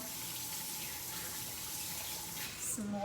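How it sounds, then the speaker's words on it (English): Tap water runs steadily into a sink while hands are rinsed in a home kitchen, a soft continuous splashing hiss that stays even throughout, with a brief higher trickle near the end. "I'm going to go ahead and rinse my hands off real quick"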